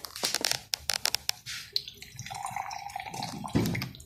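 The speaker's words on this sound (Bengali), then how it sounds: "মশলা দিয়ে দিব আর অল্প পানি দিয়ে দিব যাতে মশলাগুলো জ্বলে না" A little water poured into a pan of frying spices: several quick splashes and drips, then a steady sizzling hiss, with no talking.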